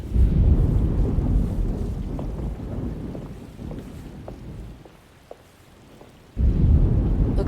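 A thunderstorm with heavy rain and wind in the video game Alone in the Dark: a loud continuous rumbling wash of rain that thins briefly to near quiet before surging back in full force.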